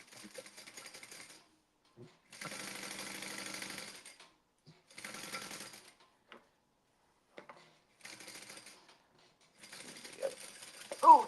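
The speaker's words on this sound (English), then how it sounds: "you're gonna put it face down on top and you're gonna sew that together" A sewing machine stitches fabric layers together in several separate runs of rapid, even whirring, each lasting one to two seconds with quiet gaps between, followed at the end by brief handling noises.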